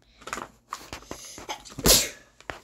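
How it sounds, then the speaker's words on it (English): A quick sneeze amid scattered knocks and rustles during a Brawl Stars gaming session, moderately close and fairly quiet. "You just sneezed on my foot."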